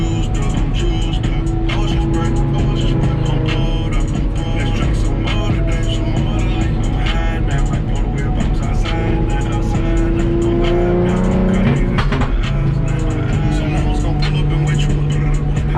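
A car drifts with its engine revving and roaring hard and tires squealing, all loud and close, while people talk over it.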